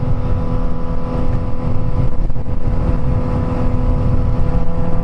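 A Suzuki GSX-S1000 sport motorcycle engine with a remap runs steadily at high revs with a rough, buzzing drone, loud and close, holding a constant roar throughout.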